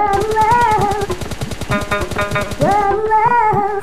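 Rapid automatic gunfire in the online game PUBG Lite, long loud bursts of rattling shots with brief pauses, dense and close, with no talk over it.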